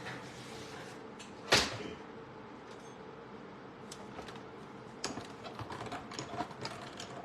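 A cut and emboss machine being set up, with close plastic clacks, one sharp knock near the start, and a run of small ratcheting and sliding clicks later, no talking.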